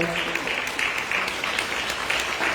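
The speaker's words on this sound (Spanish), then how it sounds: "Un aplauso a todos los papás." A congregation applauds fathers at a Father's Day gathering, steady moderately faint clapping from a crowd that continues evenly throughout.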